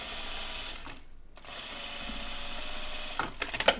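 A sewing machine runs steadily, stay stitching the waistline of a pair of jeans, with one short pause partway through and a few clicks near the end.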